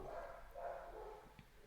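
A dog gives a few faint, muffled barks in quick succession, distant and low in level within a quiet indoor space.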